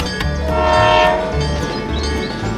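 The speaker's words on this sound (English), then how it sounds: "The train continues its journey." A toy or miniature train rolls past in a rescue play scene, a sustained horn tone held over a rhythmic low rumble of wheels, loud and close throughout.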